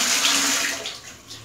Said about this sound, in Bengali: বড় পাম্প চালিয়েছি, মানে জলগুলো বড় ভরছে, খাওয়ার জলগুলো